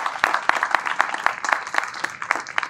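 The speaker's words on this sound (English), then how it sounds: "I think that deserves a round of applause as well." An audience at a park carousel's 100th anniversary celebration claps in a steady patter of fairly close, moderately loud hand claps for a few seconds.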